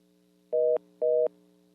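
A telephone line tone after a radio call-in caller drops: two identical steady beeps, each about a quarter second long, separated by a short gap, clear and alone over a faint constant hum.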